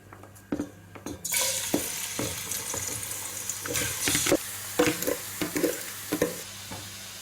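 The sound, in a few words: chicken drumsticks frying in a pot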